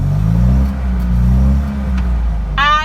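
A classic 1960s Fiat 500's small engine revving with throttle, a loud, close, low throbbing drone that swells and eases, ending with a brief clattery chirp.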